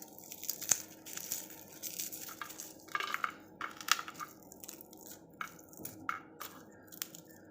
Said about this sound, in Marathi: चला तर मग आपण हे दोन लसणाचे कांदे सोलून घेऊ